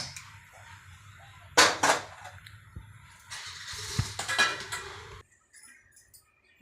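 A kadhai pan is set down on a gas stove, giving a sharp metallic clank followed by a cluster of knocks and scrapes. A soft hiss runs beneath them before the sound drops away to near silence.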